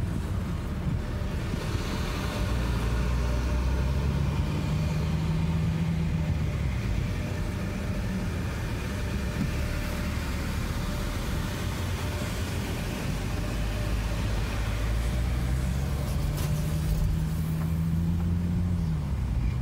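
A 2021 Toyota Supra 3.0T Premium heard from inside the cabin under launch acceleration: a loud, steady engine drone with rising pitch sweeps through the gears, plus road and wind roar, continuous for about twenty seconds with no talk.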